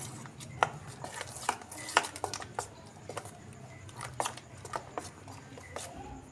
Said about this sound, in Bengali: সবগুলো উপকরণ আমি এভাবে চামচ দিয়ে ভালো করে আগে মিশিয়ে নেব